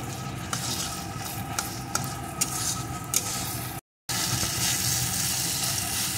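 Boiled pumpkin bharta being stirred in a pan, a steady close sizzle with repeated soft scraping strokes and a brief dropout partway through.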